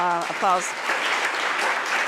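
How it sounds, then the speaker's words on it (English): Audience applause for presenters at a PechaKucha Night, sustained clapping from a room of people, following a brief bit of speech at the start. "Give them a big hand of applause."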